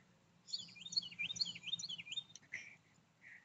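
Small birds at Cove Lake State Park in Campbell County, Tennessee, give a quick run of faint, high, warbling chirps over a low background hum, followed by a couple of short calls.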